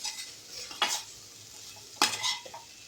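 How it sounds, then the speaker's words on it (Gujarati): Achari bhindi, okra cooked with spices and fresh mango powder, being stirred in a pan: two distinct scraping stir strokes over a soft background sizzle, close and fairly quiet, with no talking. "બસ આ બધું નાખીને હવે એને બરાબર મિક્સ કરીને"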